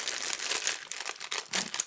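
A paper bag is crinkled and handled up close, giving bursts of dry crackling and rustling with brief pauses between them.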